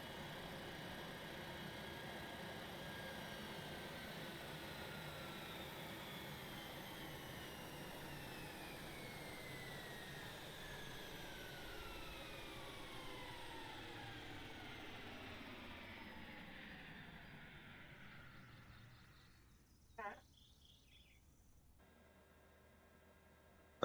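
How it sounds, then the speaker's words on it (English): An Air Tractor AT-802 crop duster's turbine engine in Microsoft Flight Simulator 2024 spools down from a steady whine to near silence over about twenty seconds, with a brief click-like burst as it fades out. "Let's do a little engine shut off now."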